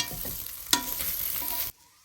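Rice dumplings tossed and stirred into a spice mix in a hot pan, producing a close, steady sizzle with one sharp spoon knock, then cutting off abruptly near the end.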